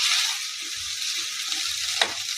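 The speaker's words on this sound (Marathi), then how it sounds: "ती पण छान अशी तेलात फ्राय होऊ द्यायची" Cluster beans (gavar) fry in hot oil with a steady, close hiss and crackle, with a few soft stirring knocks and one sharper pop near the end.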